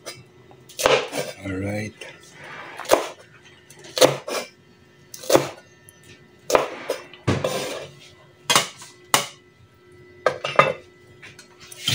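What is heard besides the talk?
knife slicing chili peppers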